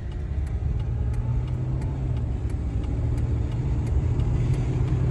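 A car engine runs roughly after being topped up with almost three quarts of oil, giving a steady low idling rumble with faint, regular ticking on top, close and alone with no talking.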